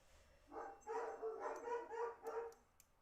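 Several dogs barking in a quick run of sharp barks and yips, fairly faint and somewhat distant, with no talking over them.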